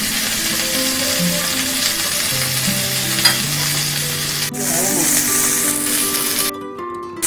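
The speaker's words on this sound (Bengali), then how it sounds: "এভাবে সাইডগুলো একটু ভেজে নেব।" Beef steak edges searing in a hot pan, a steady loud sizzle and crackle running throughout, with occasional spatters and a brief sharper burst near the end.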